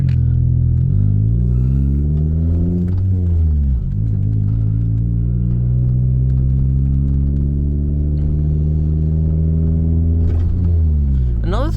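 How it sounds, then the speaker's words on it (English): Loud, rough idling engine of a 1995 Ford Probe with no exhaust fitted and an exhaust leak, deep rumble and a brief rev, raspy and unmuffled, close by. "I do not have an exhaust on this. I have a decent sized exhaust leak."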